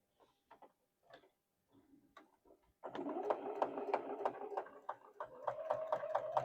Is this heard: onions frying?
no